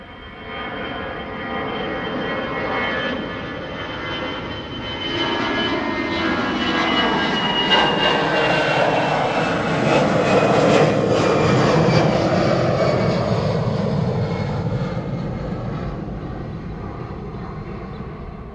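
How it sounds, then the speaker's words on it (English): An Airbus A319 takes off from a runway at Schiphol, a broad jet roar swelling to a sustained peak and slowly fading, heard from a distance with steady rumble throughout. "that's the A319 in the background. Taking off from the other runway."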